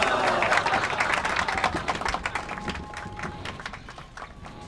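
A crowd applauding in the video game Blues and Bullets, a dense, steady patter of clapping that starts loud and gradually fades over several seconds.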